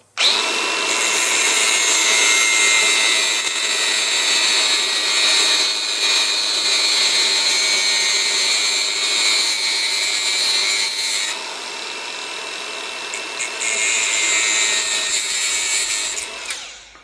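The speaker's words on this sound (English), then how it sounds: "cutting this off just past the thread" Power tool cutting through a part of a Vauxhall F16/F20 gearbox just past the thread, a loud sustained high whining grind that dips briefly near the end and then resumes, no speech.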